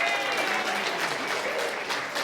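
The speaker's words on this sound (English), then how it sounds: "So give everyone a round of applause," Conference audience at an education event applauding the introduced speakers: a loud, sustained burst of many hands clapping close at hand, steady throughout with faint voices in the mix.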